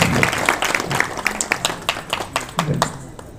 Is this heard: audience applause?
yes